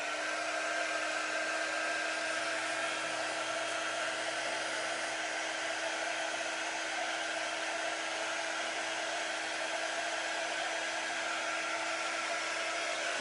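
A hair dryer runs steadily and continuously close by, drying freshly printed ink on a hoodie, with an even whooshing blow and a faint motor whine and no talk.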